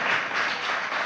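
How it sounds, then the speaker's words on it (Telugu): Brief burst of applause from a congregation packed into a church, a dense wash of many hands clapping at once. "గట్టిగా చప్పట్లు కొడాలి"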